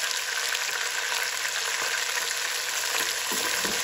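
Steady, dense sizzling of ginger garlic paste with green chili frying in a hot pan, continuous and fairly loud, with a few faint stirring scrapes near the end.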